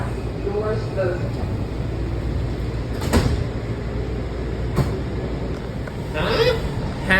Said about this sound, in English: Step back. Doors closing.